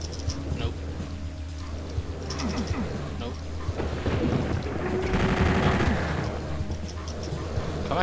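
Shotgun blasts from the video game Doom 64, several sharp booming shots mixed into loud continuous game noise, with someone talking over the action.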